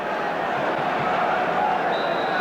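Steady, dense roar of a football stadium crowd at a Queens Park Rangers versus Tottenham match, waiting for kick-off, continuous and moderately loud with no clear cheers or peaks and no voice over it.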